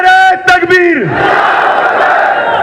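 A loud crowd at a political rally shouts the Takbir slogan in unison, the chant starting with a leader's call and then swelling into a sustained roar of many voices.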